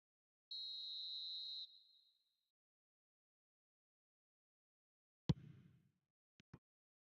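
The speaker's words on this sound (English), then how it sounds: "And the half-time whistle goes." Referee blows a single long, clean, high whistle for half-time in eFootball 2026, lasting about a second before fading, followed later by a few short faint knocks.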